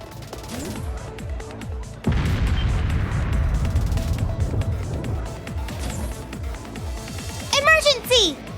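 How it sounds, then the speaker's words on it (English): Distant railway cannon artillery fire in Trails of Cold Steel 3, a sudden heavy boom followed by a long rumbling roar, with game voices talking over it and brief sharp effects near the end. "Those are the new Rhineford Railway cannons."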